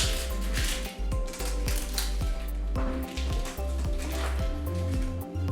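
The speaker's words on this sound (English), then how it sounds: "we're just going to move through this onion in a semicircle" A knife slicing through an onion on a cutting board in semicircular cuts while making pico, repeated crisp chops at close range over a constant low hum.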